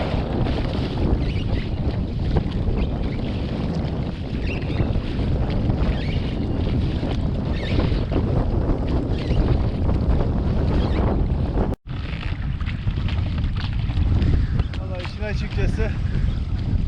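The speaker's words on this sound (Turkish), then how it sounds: "bu rüzgar hiç de keyif vermiyor" Strong wind roars steadily into the microphone out on open water from a boat, with faint talk buried beneath the gusts and a brief dropout near the end.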